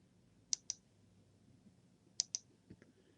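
Quiet computer mouse clicks on an OK button in estimating software come as two sharp double clicks about a second and a half apart, followed by a fainter tap in a hushed room.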